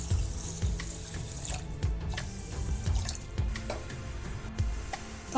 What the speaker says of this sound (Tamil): இதுக்கு வந்து 2 டம்ளர் தண்ணி ஊற்றிக்கலாம்.